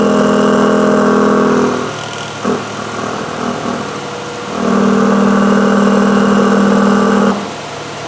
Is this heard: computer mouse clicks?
no